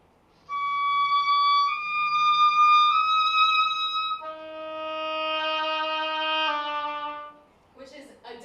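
An oboe in a senior recital setting holds a bright, high sustained note that steps slightly, then drops to a lower held note, loud and close, ending with a brief rustle.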